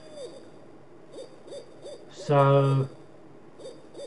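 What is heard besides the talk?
owl or cuckoo hooting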